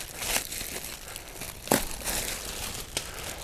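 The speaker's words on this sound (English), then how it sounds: "I'm going to take the plastic off the bottom." Plastic wrapping being peeled off the underside of a Golden Technologies GL141D mobility scooter seat, giving soft continuous crinkling with a few sharper crackles and one louder tearing burst near the middle, close up and unaccompanied.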